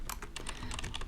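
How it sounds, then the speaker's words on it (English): Keywords are typed quickly on a computer keyboard, a brisk run of close, crisp key clicks with no talk over it. "But let me just type in some random keywords."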